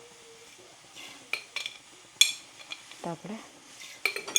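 A spoon clinks and scrapes against a pan while brown sugar is stirred in, a few sharp metallic taps and short scrapes, close up, with a brief spoken phrase.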